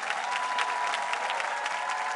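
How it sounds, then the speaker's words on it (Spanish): Dense, steady applause from a large television studio audience, a continuous wash of many hands with a faint tone running through it. "Un aplauso para Juan Gabriel,"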